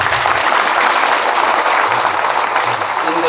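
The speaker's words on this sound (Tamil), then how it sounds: "நாம் மகிழ்ந்து வாழ்த்தி சொல்லி கைத்தட்ட வேண்டும்" A seated audience at a health talk by a cardiologist claps hands in loud, sustained applause, a thick continuous rattle with no pause and only faint voices beneath.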